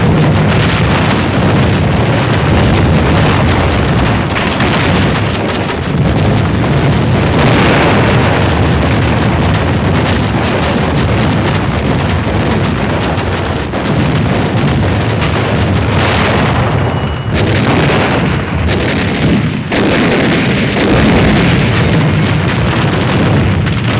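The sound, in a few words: naval bombardment, ships firing on Mount Suribachi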